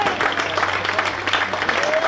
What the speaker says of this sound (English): He's always going to get a warm round of applause from the